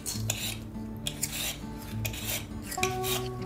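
A cucumber is peeled in a quiet kitchen, with repeated short rasping scrapes close up and faint clinks of utensils.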